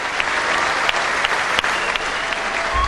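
Concert audience giving a standing ovation, dense sustained clapping with a few sharper claps standing out, loud and close, continuing steadily throughout.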